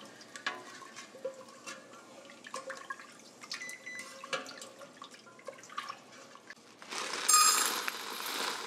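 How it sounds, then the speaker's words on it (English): Chicken broth being poured into a hot soup pot and stirred to scrape browned bits off the bottom, soft sizzling and scattered clicks of a utensil against metal, ending with a louder gush of liquid. "I'm going to use that broth to scrape up any of the brown bits on the bottom of the pot."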